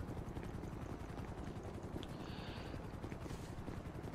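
A police helicopter in GTA V with the LSPDFR police mod, a steady chopping rotor drone heard close and continuous throughout, with no talking.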